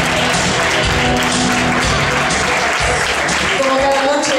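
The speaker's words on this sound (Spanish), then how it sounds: "un fuerte aplauso para ella" Loud, dense applause at an evening singing contest as a solo singer is introduced, the clapping holding steady throughout, with a voice and some tonal sound underneath.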